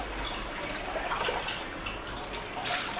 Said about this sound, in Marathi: ज्वारी चाळायच्या पूर्ण पाणी खाली नितळते